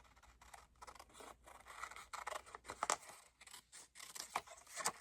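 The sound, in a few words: scissors trimming paper around a pocket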